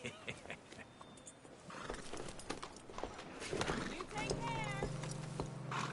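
In the video game Red Dead Redemption 2, a horse's hooves clop over the ground while characters talk, and near the end a horse lets out a clear, fairly close whinny.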